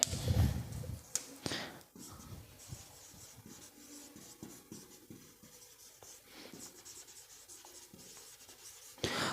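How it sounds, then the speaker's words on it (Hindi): Chalk or marker scratches and squeaks across a classroom board in short strokes, close and fairly quiet, with a few soft taps and bumps between strokes. "यहीं पे लिखते हैं"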